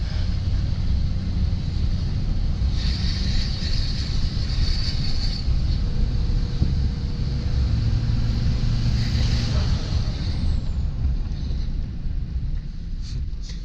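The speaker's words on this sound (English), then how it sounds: "the turbo noise is insane" A loud, close LBZ Duramax diesel pickup truck engine drones continuously, deep rumble underneath and a rising turbo whine and hiss that swells midway and then eases off.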